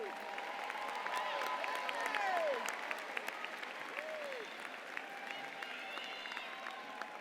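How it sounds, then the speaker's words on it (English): Steady audience applause fills a graduation ceremony hall at Frederick Douglass High School, a dense wash of many hands clapping at moderate distance, with faint crowd murmur and a few voices mixed in throughout. "Please stand and let's give them a big round of applause"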